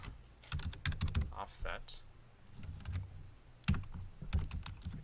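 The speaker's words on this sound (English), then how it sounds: "I need to make sure I type it right." Someone types on a computer keyboard in quick bursts of key clicks across the clip, with a voice speaking over parts of it.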